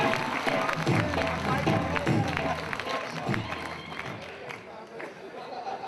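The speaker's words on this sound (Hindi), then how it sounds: "पुरजोर तालियों से उनका इस्तकबाल करें।" Audience at an all-India mushaira applauding a poet coming to the microphone, a lively mix of clapping and crowd murmur that fades somewhat toward the end.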